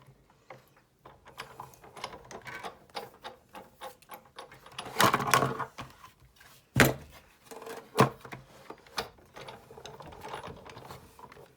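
A Sizzix die-cutting machine cranked by hand to press card stock, with a close, steady ratcheting crank and gear clatter, punctuated by a couple of sharp knocks and thumps.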